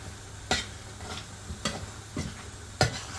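Okra curry cooking uncovered in a pan, a soft steady sizzle and simmer with a few sharp stirring clicks and knocks of a utensil against the pan at irregular intervals.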